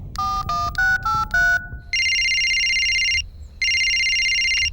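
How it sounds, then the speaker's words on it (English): A telephone rings loudly and close, opening with a quick run of dial-style tones and then giving two long electronic ringtone bursts with a short gap between them. "Can someone answer their phone?"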